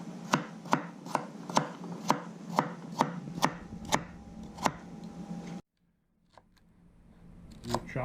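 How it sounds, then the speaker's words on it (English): A knife chops celery on a cutting board for soup, about a dozen crisp, evenly spaced thunks close up, then a pause and a few softer knocks as the chopping resumes. "We're chopping the celery."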